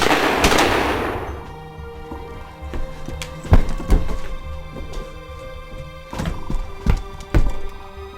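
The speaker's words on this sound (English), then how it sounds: "Well, me and Randy fired some shots at him." Gunshots fired at a creature outdoors, several sharp loud bangs spaced irregularly over a few seconds, each with a short echoing tail.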